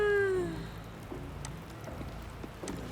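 A cat meows once, a clear rising-and-falling cry close by in the fantasy role-playing game Baldur's Gate 3, followed by soft ambient patter and faint clicks; no talking.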